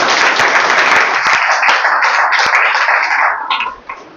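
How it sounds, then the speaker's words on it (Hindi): An audience claps together at a coaching-class celebration event, loud, dense clapping that carries on steadily before thinning out and fading near the end. "तो उनके लिए ताली हो जाए।"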